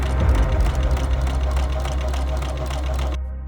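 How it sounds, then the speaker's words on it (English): A sewing machine runs at a fast, steady mechanical rhythm, close and loud, then stops abruptly at the end. "Even the sound coming from a sewing machine has a certain tempo."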